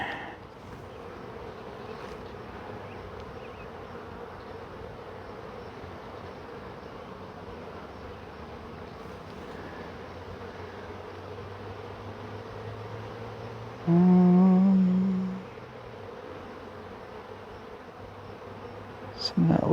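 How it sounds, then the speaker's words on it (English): Honeybees hum steadily around an open hive, a constant close drone with one louder, nearer buzz swelling briefly before fading back into the swarm. "this hive's got enough bees on it that they'll be okay"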